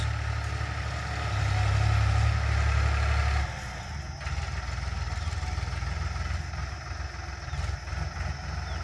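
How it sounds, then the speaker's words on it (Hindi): A Farmtrac 30 tractor engine runs steadily with a low diesel rumble while working a field, rising louder for a few seconds before settling back to an even idle-like drone. "अपने काम के लिए ये ट्रैक्टर बहुत बढ़िया है"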